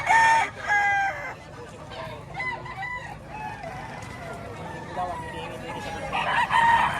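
A rooster crows loudly nearby, with more crowing and clucking from chickens around it and faint voices in the background.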